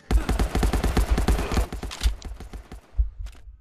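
Rapid pistol gunshots crackle in the VR shooter Pistol Fight, a dense volley of sharp close reports for about two seconds, then a few scattered single shots after a short lull.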